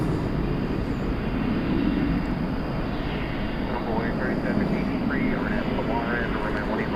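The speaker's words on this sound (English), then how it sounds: "Flight 3783 is what that is, going to Brownsville, Texas, at Embraer 175." An Embraer 175 airliner on flight 3783 to Brownsville, Texas, roaring steadily at DFW Airport at night, a broad continuous engine rumble with faint whistling tones, while people talk over it.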